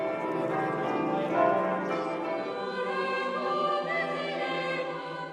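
Church bells ring for midnight Christmas Mass, overlapping tolls sustained and humming for several seconds, fairly loud and close with no talk over them.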